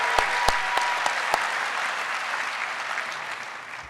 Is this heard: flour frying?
no